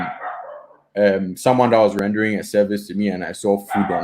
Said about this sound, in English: Apologies for the dogs barking in the back.